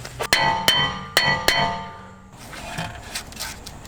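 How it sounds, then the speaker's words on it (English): A hammer striking corroded, rusted metal on a BMW E84 X1 during a brake job, four sharp ringing clangs in quick succession, close and loud, then a quieter stretch of shop noise. "Let me get a different hammer here."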